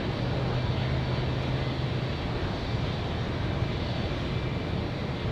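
An Air New Zealand Dash 8 turboprop arrives at Auckland Airport from Blenheim. A steady, distant propeller drone and a low hum sit under broad outdoor noise, with no voices.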